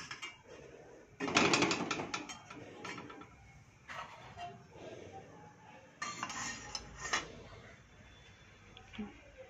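Small bowls being set into a pot holding a little water, making quiet bursts of ceramic and metal clinks and clatters in a few separate clusters, with short pauses between them.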